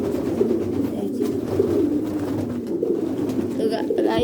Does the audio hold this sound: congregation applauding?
no